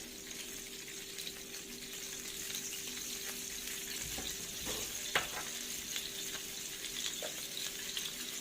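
Eggs frying in a pan for Alexandrian koshari, a soft steady sizzle and crackle close by, with a few faint clinks and taps over it and no talking.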